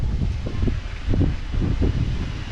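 Gusty wind on a high terrace buffets the microphone in low, rumbling bursts, rising and falling over a few seconds with no voices.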